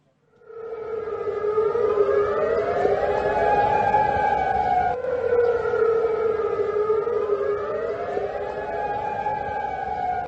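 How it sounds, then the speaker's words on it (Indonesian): Air raid warning sirens wailing around an air base in Jordan, a loud sustained rising-and-falling civil defense tone that starts after a brief silence and cycles twice, steady and unbroken with no voices. "memicu aktifnya sirine peringatan serangan udara di sekitar pangkalan"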